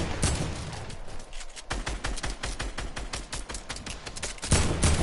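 Rapid automatic gunfire in a first-person shooter video game, dense bursts of sharp cracks close up, fast rhythmic volleys with a brief pause and then a louder final blast.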